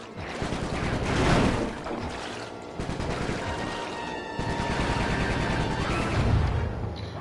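Heavy, sustained gunfire in the video game Sly 3: Honor Among Thieves, rapid overlapping shots and booms forming a dense, loud barrage that swells and dips for several seconds.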